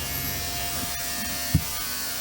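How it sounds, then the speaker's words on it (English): An ultrasonic cleaner runs in a workshop during a 1994 Honda NTV scrambler build: a steady close electric buzz with a fixed tone and one brief thump partway through. "The ultrasonic cleaner has been turned on"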